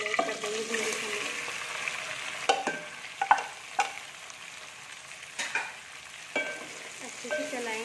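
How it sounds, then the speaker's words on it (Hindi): Okra sizzling in a pan with cumin and spices, a steady fry punctuated by several sharp clinks and scrapes of stirring, close and moderately loud. "अब हम इसमें अपने सारे मसाले ऐड कर देंगे भिंडी समेत।"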